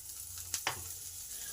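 Chopped onion hits hot oil already holding fried cumin, chili and garlic, giving a soft, steady sizzle broken by two quick scraping stirs, quiet and close with no voices.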